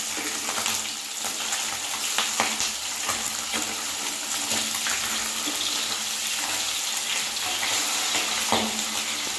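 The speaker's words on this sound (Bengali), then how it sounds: "আমি রান্নাটা সর্ষের তেলেই করব, আপনারা চাইলে সাদা তেলে বানাতে পারেন। 2 মিনিট উল্টে পাল্টে ভেজে নেব।" Pabda fish sizzle and crackle in hot mustard oil, a dense, steady frying hiss with occasional pops and spatters, close and constant, with no talking.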